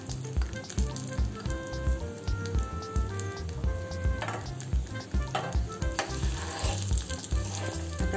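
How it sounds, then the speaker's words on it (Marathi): Fenugreek seeds roasting in hot oil for mango pickle, a busy close sizzle and crackle mixed with clinks and stirring against the pan, and no voices. "आता आपल्या मेथ्या तेलामध्ये चांगल्या परतून झालेल्या आहे"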